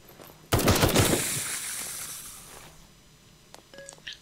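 A loud burst of rapid automatic gunfire in Night of the Dead, a dense rattle of shots lasting about a second, then ringing echo that fades, followed by small electronic beeps.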